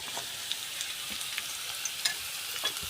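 Chopped onion frying and being stirred in a pan for a Khandeshi wild monsoon vegetable dish, a steady close sizzle with small crackles and occasional scrapes, no talking.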